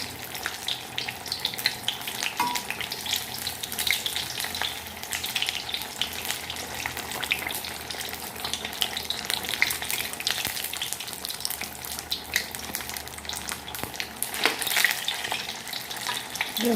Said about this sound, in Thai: เดี๋ยวรอเขารอทอดจนเสร็จก่อนนะเจ้า